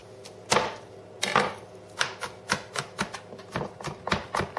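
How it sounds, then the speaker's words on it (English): A knife chopping garlic on a cutting board, a run of sharp, close taps with a quickening, uneven rhythm, and no talking. "You're also going to chop garlic."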